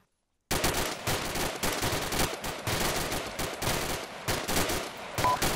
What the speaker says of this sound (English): 1 round every 3 seconds for a machine gun, that's about 1 burst every 4 seconds